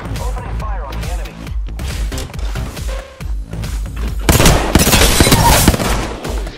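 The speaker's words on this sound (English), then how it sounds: "Opening fire on the enemy." Bursts of video-game gunfire rattle out loud and close, a dense rapid volley near the end following lighter earlier shots, with a voice speaking over parts of it.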